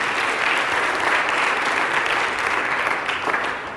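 Sustained applause from a church congregation, a loud, dense stretch of clapping that holds steady and eases slightly at the end.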